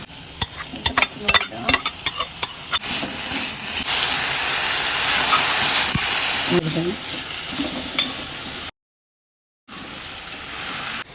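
Onions sauté in oil in a pan while a chicken curry is cooked, with a steady loud sizzle broken by clinks and scrapes of a spatula and brief stirring.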